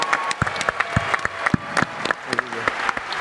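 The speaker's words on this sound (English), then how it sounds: "get ready for a round of applause here" Applause from an audience for a Eurobasket bronze medal winner at a Milwaukee sports gathering, with sharp, separate claps spaced through the clip rather than a dense roar, fairly close and with no talk over it.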